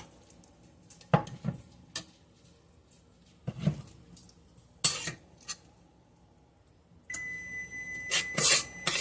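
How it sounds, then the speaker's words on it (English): A kitchen oven beeps as it preheats, a steady electronic tone in the last couple of seconds. Before it come scattered clinks and clatters of dishes and utensils. "That is my oven preheating."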